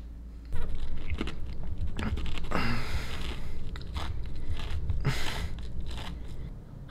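A sandwich is bitten into and chewed at close range, with crisp crunching bites and wet chewing noises repeating over a few seconds against a faint steady background.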